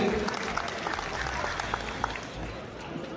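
An audience at a Bahujan community gathering in Aligarh applauds steadily for a few seconds, a dense, even patter of many hands with a faint murmur of voices mixed in.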